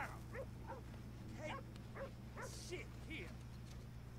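Dog barking in Red Dead Redemption 2, a series of short yips and barks repeating every half second or so over a steady low game hum, with a brief hiss partway through.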